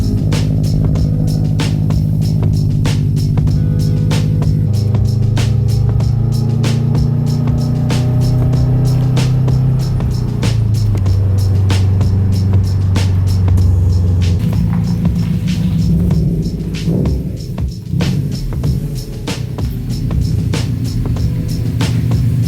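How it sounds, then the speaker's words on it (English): A car engine idles steadily nearby, a constant low hum with a faint ticking rhythm and slight shifts in pitch. "That car right there has been running for probably 2 hours now."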